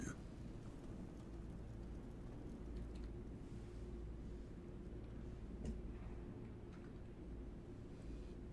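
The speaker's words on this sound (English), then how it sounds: "Storm's getting worse." Steady rain pours through a thunderstorm in Skyrim, a dense low rumbling wash with a brief sharp crack partway through, continuous and fairly distant, with faint voices now and then underneath.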